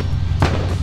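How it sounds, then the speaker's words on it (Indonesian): A single short, loud burst in the video game Car For Sale Simulator 2023, sounding like an explosion from a sports car showroom scene, over a steady low background hum. "Meledak."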